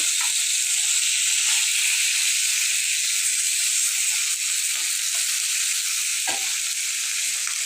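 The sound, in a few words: fish added to sizzling sautéing onions and green chilies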